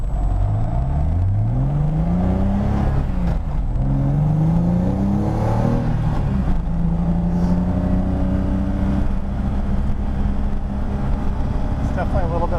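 A BMW E30 fitted with an S54 engine and solid engine and transmission mounts cruises on a highway, heard from inside the loud cabin as a droning engine note that rises and falls through shifts.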